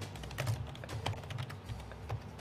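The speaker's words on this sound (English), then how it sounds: "He's just typing." Steady rapid keystrokes on a computer keyboard, close and continuous over a low room hum, with no one speaking.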